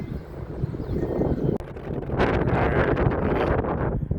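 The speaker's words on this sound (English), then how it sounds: "A little windy out here." Wind blows outdoors in Lampasas, Texas, rumbling against the microphone in uneven gusts that swell louder partway through, with a rustling hiss.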